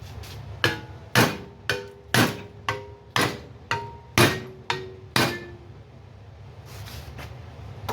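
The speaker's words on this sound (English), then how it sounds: "Oh, the hammer worked better." A hammer strikes scrap metal for a 1951 Chevy radio delete panel about ten times at a steady pace, each blow a sharp ringing clang, then it stops and quiet hum remains.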